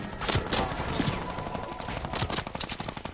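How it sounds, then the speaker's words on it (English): A minigun firing in a video game, a rapid rattling stream of shots at moderate volume, surging and fading over several seconds amid other game noise. "is this guy really shooting me with a minigun?"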